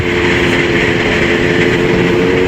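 A steady Kawasaki Z800 motorcycle engine drones at constant speed, loud and close, with a dense rumbling tone and no talking.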